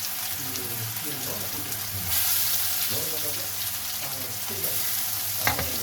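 Fennel and curry leaves fry in oil over a low flame for a mutton spleen, lung and liver fry, sizzling steadily with stirring scrapes and a sharp clink near the end.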